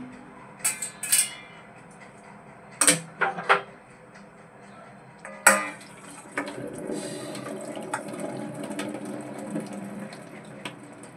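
Boiled macaroni is drained through a colander: a few clattering, splashy bursts come first, then hot water pours in a steady, close rush.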